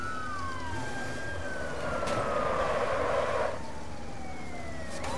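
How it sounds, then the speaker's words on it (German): A siren in the video game Watch Dogs: Bad Blood wails loudly and continuously, its pitch slowly sliding down, over steady traffic-like rumble. "Sirene."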